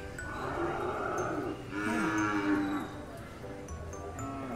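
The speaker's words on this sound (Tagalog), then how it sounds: "Bata pa na kalabaw." A young carabao (water buffalo) at a livestock stockyard gives two long, loud moos close by, each a drawn-out harmonic bellow, with a brief gap between and steady yard noise underneath.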